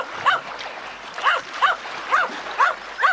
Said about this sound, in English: Timmy began to bark excitedly